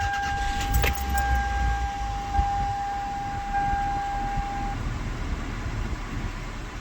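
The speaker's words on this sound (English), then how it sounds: "Key off. Fire it back up." A key turns in the ignition of a 2001 Toyota Highlander, with a jangle of keys and a brief cranking burst, then a steady engine hum and a thin warning chime tone continuing underneath, fairly quiet and close.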